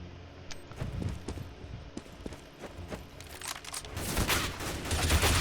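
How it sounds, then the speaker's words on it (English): Gunfire in the game CS:GO: scattered sharp shots crack out in a loose, irregular rhythm over game ambience, the action growing denser and louder toward the end. "Wasted Officer missed his shots, unfortunately."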